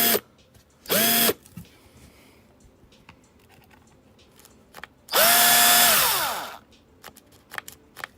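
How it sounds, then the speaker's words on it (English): A cordless drill whines in two bursts, a short one early and a longer, louder run that winds down as the battery dies, with small handling clicks and knocks in between. "The drill died."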